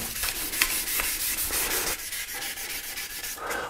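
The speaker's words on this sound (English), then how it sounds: "So let's do it and let's sand these parts." Repeated rhythmic wet-sanding strokes of sandpaper over painted bike parts, close and fairly loud, each stroke a short scratchy swish.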